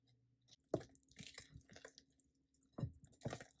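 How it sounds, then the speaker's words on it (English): A wooden spoon stirs pumpkin maple cake batter, giving soft, wet squelches and thick slaps in an uneven rhythm. The sounds are close but faint. "now you're simply going to mix this all together to form your cake batter"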